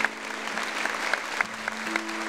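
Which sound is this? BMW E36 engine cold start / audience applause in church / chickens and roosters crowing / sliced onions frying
audience applause in church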